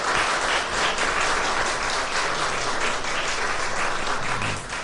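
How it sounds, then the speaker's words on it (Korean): Sustained applause from a university chapel congregation, a dense, even patter of many hands clapping close by for about five seconds, fading slightly at the end, with no talk over it. "감사의 박수 하겠습니다."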